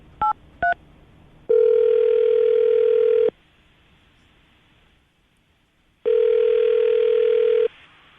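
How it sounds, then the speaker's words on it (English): A telephone line gives two short keypad dial beeps, then a steady dial-type tone that holds for about two seconds, drops out, and returns for another long stretch, loud and close with no talking. "I'm going to dial the phone number right now."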